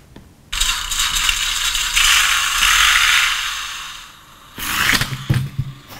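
An Orlandoo Hunter RC crawler's sound unit gives a loud, steady whirring, grinding engine-like drone that rises and holds for several seconds, cuts off, then comes back in a short rough burst.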